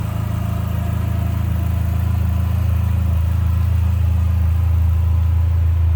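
A 2003 Dodge Neon SRT-4 with a 16-valve dual overhead cam engine idles steadily and smoothly up close, a loud, even low-pitched hum with no revving, alone without talk.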